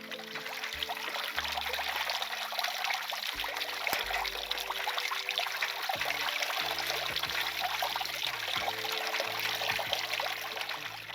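Cooking oil pours steadily into a pot set on a village stove while desi chicken karahi is being prepared, a continuous close trickling stream with no voices.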